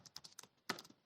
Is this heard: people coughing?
no